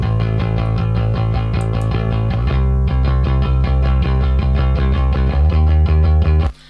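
Bass guitar played with a pick, processed into a widened stereo image, chugging steady rhythmic low notes at high level, alone and continuous, then cutting off sharply near the end.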